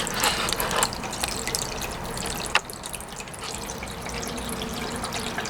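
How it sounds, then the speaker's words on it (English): Water trickles and splashes steadily as it flows from one garden barrel into another, a continuous close wash of sound with a single sharp knock partway through and no talking. "the water is high enough in that other barrel to start to come in here"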